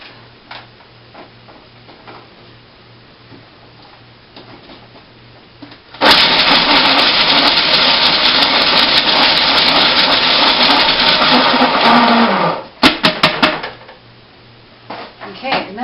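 A blender grinds hazelnuts in a loud, steady roar lasting about six seconds, then cuts off and gives a few short bursts; quiet ticking and faint kitchen clatter come before and after.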